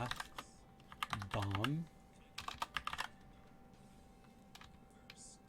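A computer keyboard clatters as a search term is typed in short bursts of quick, light key clicks close by, broken up by pauses, while someone speaks briefly partway through.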